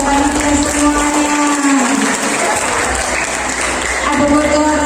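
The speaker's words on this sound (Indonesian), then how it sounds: "Tepuk tangan untuk Ketua Panitia dan panitia semuanya." Applause from an audience at an indoor school event in an upscale hall, honoring the committee chair and organizing committee; steady dense clapping throughout with a voice speaking over it and reappearing near the end.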